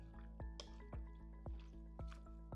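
Tortellini salad with chunks of feta cheese is stirred in a bowl, giving soft, wet squishes and clicks in a steady rhythm, faint and close, over a low background hum.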